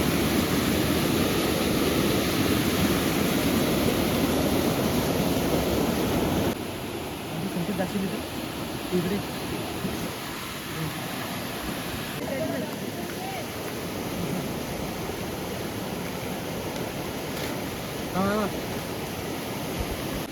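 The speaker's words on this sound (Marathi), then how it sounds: "जोरदार पाणी आहे" Loud rushing water from a strongly flowing river in heavy monsoon rain roars steadily, with voices and some movement heard faintly over it.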